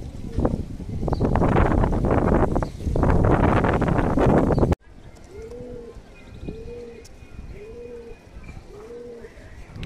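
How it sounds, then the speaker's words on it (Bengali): Loud voices and rustling at first, then a steady series of soft, low coos from a male and a female pigeon, repeating about once a second, close by. "এটা নর পায়রা আর এটা মাদা পায়রা।"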